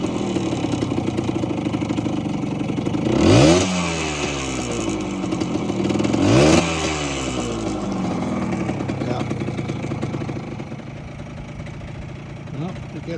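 Yamaha DT 100 enduro motorcycle with a steady two-stroke idle, broken by two sharp revs that rise and fall, heard close.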